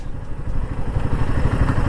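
Motorcycle engine idling at a red light on a hot road, a steady low rumbling chug close by with faint rattling, continuous and alone without talk.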